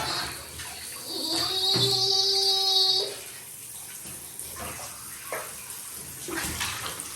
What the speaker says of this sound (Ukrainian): тут ванна менша. Вода швидше набирається.